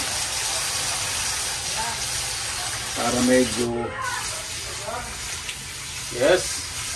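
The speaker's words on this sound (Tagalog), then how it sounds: "Ilalagyan ko po muna ng tubig" Water is poured with a steady hiss and brief gushing surges, while a person talks briefly over it.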